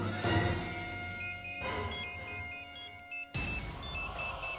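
A phone rings with a short, repeating electronic melody over a faint background hum.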